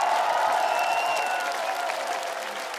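Studio audience applauding on a Russian television show, a sustained dense burst of clapping that starts loud and slowly fades.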